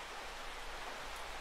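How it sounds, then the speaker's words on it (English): Steady rain falls inside a horror video game, a soft, even hiss of rainfall with no breaks, heard alone at a moderate level. "It's raining. I can hear the rain, but there's no windows."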